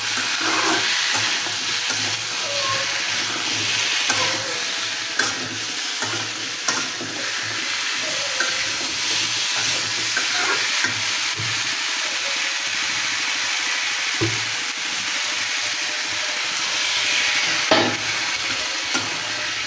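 Pumpkin pieces stir-fry with spices in a pan, giving a steady loud sizzle with scraping stirs and occasional clanks of the utensil, no voices.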